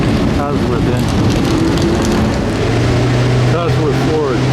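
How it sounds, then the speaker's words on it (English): At Monterey Car Week, a race car with a Cosworth Ford engine, linked to 1982 Le Mans, drones loudly and continuously with brief rising and falling revs, while people talk faintly in the background. "Cosworth engine."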